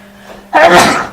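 A single loud, sharp sneeze bursts out midway after a near-silent start, with a broad noisy explosion that trails off, heard up close during a tabletop Star Wars role-playing game session.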